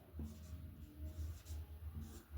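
Chalk or marker strokes scratch across a board in short, soft bursts. Low room hum sits underneath, and there is no speech.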